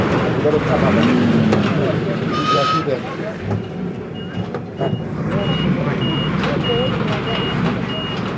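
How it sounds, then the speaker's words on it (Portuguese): A truck in a wildlife conservancy backs up as its reversing beeper repeats at a steady pace. The rumble of the engine and other wildlife-rescue activity sit underneath, and people talk throughout. "O caminhão dá ré."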